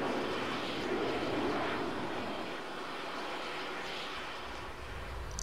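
A fast jet in the video game Arma 3, reported faster than the SU-35, flying at Mach 2. A steady, loud broadband engine roar fills the whole stretch without talk.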